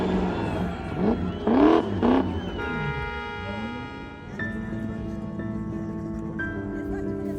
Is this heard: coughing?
no